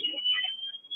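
A firefighter's PASS alarm sounding at a house fire where a kitchen is burning, a steady high-pitched electronic tone held throughout, with muffled voices underneath.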